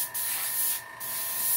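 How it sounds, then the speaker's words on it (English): An airbrush sprays resin onto a wine cart, giving a steady close hiss with a short break partway through and no talking. "Enough to where I can use my airbrush"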